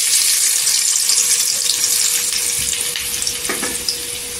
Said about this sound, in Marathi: कांदा असा गोल्डन कलरवर करून घ्यायचा, तेलावर परतून घ्यायचा